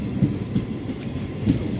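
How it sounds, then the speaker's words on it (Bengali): An Amta local passenger train pulls away, its wheels rumbling and clacking in irregular low thumps over the rails, fairly close and unbroken by speech. "দেখো ট্রেনটা চলে যাচ্ছে আমতার দিকে।"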